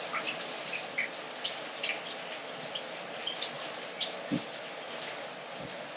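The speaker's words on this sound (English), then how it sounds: "I'm getting the shower." Shower water runs in a continuous hissing spray with small splashes and drips, moderately loud and steady, with no talk over it.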